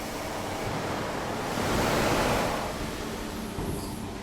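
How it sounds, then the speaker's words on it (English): High-pressure water jet spraying onto hot steel to strip scale in a rolling mill, a steady loud broadband hiss and roar that swells slightly midway and continues unbroken. "So with a high pressure water jet, the scales are being cleaned in here."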